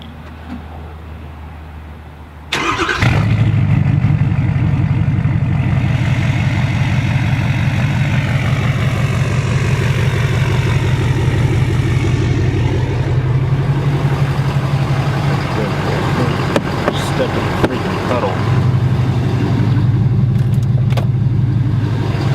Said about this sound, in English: let's get a proper cold start of this thing